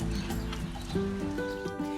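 A speckled Sussex hen clucks and croons in drawn-out tonal notes close by, with steady background noise.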